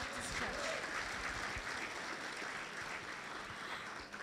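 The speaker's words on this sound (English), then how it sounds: "A round of applause for our host church today," Congregation applauding for the host Baptist church during a resurrection celebration service, a broad, even wash of many hands clapping, sustained and fairly distant.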